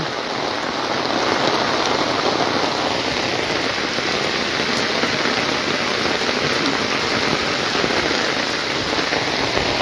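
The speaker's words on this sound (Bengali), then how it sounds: "প্রচুর বৃষ্টি পড়ছে ওদিকে রাস্তায় মনে হয় পানি উঠে গেছে" Heavy rain pours steadily on a street that may be starting to flood, a dense, loud, unbroken hiss that fills the whole stretch with no voices over it.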